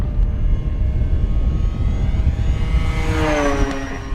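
An FMS Ranger 1800mm RC float plane makes a fast downwind pass, its electric motor and propeller droning loudly throughout and rising into a higher, Doppler-shifting whine as it sweeps close near the end.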